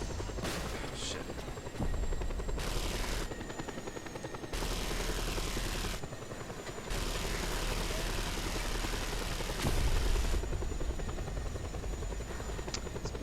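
Attack helicopters roar in Just Cause 2, a loud continuous rotor thrum that cuts abruptly in and out several times as the scene shifts, with a brief burst of heavier noise near the end.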